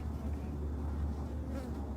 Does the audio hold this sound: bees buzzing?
yes